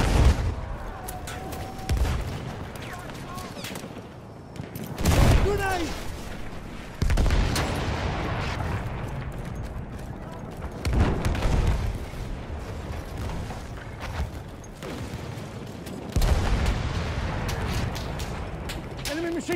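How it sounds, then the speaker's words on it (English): Machine gun fire and explosions in Battlefield 1 Conquest mode come as repeated loud bursts and booms, with sustained rattling stretches, under and between frequent voices of players talking. "machine gun over there"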